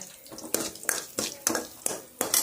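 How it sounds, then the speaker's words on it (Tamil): Small onions sauté in a pan for a river fish curry, with a series of regular scraping stirs, about one every third of a second, over a soft sizzle. "நல்லா வதங்கிருச்சு அப்படியே தாளித்ததை வேவிக்க வேண்டிதான்"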